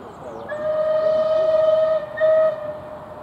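Bulleid Battle of Britain class steam locomotive 34081 92 Squadron on a heritage branch line at a gala, its whistle sounding in a long steady blast, then a brief louder second burst, over the rumble of the train.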